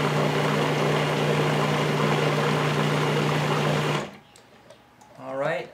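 Granulated sugar being mixed for a smoked cheesecake, a steady, loud motorized whir lasting about four seconds that cuts off abruptly, followed by a voice.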